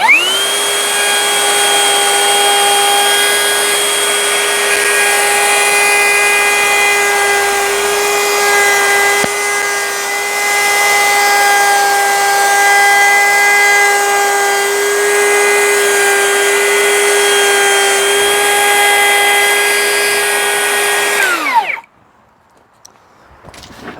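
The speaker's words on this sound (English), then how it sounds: "it's just a matter of carefully routing that out, starting in the middle" A router routes out a wooden staircase handrail joint, starting in the middle and working outward, with a loud, steady, high motor whine that holds for about twenty seconds before cutting off abruptly.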